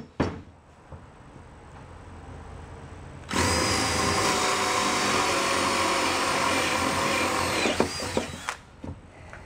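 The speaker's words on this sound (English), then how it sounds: "then I'll flip it over, put my Fastener bit back in, and drill the rest from the other side." A power drill with a fastener bit bores through MDF backer board, starting with a few handling clicks, then a loud sustained high whine for about five seconds before spinning down amid clatter.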